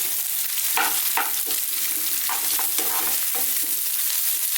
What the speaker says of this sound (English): Let's just drop in now our onions. I'm using a white sliced onion today.